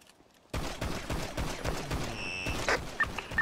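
Rapid gunfire from a GTA roleplay game fires in dense bursts after a brief quiet start, loud and sustained with sharp individual shots standing out near the end.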